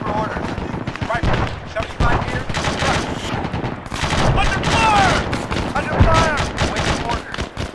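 Rapid bursts of rifle and machine-gun fire crackle through an Arma 3 firefight, loud and near at times, while voices shout urgent commands over the shooting.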